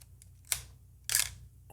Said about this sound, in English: oh my God, the shutter noise